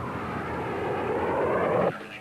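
A HIMAT remotely piloted model test plane flies past, its steady engine roar swelling and then dropping off abruptly near the end.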